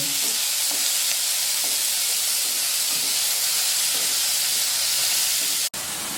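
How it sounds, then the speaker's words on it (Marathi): Finely chopped tomatoes and capsicum, with onion, sauté in a pan for masala macaroni, producing a loud, steady, close sizzling hiss with faint stirring taps that carries on without a break. No one speaks. "हे टमाटर हे दोघांच्या सारखीच बारीक कापलेली शिमला मिरची याला आता छान परतून घेऊ"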